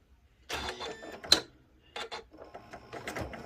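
A sewing machine stitches quilt binding with a ruler, running in short bursts of quick mechanical chatter and pausing briefly in between, close and moderately loud.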